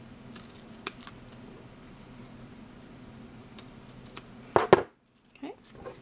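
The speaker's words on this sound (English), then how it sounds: "take your scissors and just trim off the edges just a bit." Scissors trim the edges of fabric for a dress card craft, a couple of brief crisp snips near the end after a quiet stretch with low background hum.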